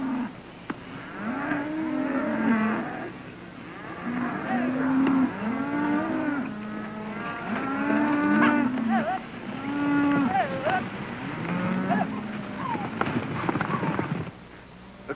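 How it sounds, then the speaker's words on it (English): A herd of cattle on a Wyoming range moos almost continuously, with many overlapping low, drawn-out calls from several animals, loud and close, with no clear gaps. "And Benson, don't push cattle too hard."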